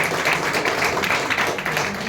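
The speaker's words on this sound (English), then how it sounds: "Can we clap for him, everybody?" An audience at a tourism and hospitality panel discussion applauds a panelist, producing steady, dense clapping that fills the room without a break.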